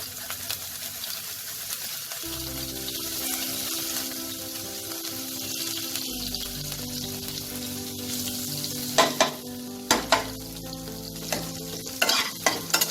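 Grated ginger frying in a pan for a mung dal, a continuous sizzle with stirring scrapes, then several sharper clatters near the end, no speech.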